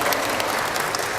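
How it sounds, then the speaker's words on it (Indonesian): Applause for Don Bosco 2 students, who are being recognised at a school event. A dense, steady wash of many hands clapping fills the space evenly from start to finish, with no speech over it. "tepuk tangan buat Don Bosco 2 Bapak Ibu sekalian"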